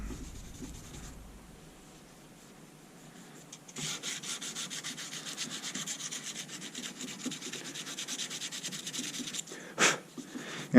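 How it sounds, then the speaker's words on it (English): A knife handle is hand sanded with sandpaper: a quiet start gives way to a steady, raspy back-and-forth scratching that carries on for several seconds, then ends with a brief louder rub. "I typically like to sand everything in this direction."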